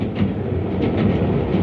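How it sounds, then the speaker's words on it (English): A diesel multiple unit passenger train runs close by in a steady, loud rumble of engine and wheels on track, with faint rhythmic clatter and no voices. "diesel multiple unit trains have been selected."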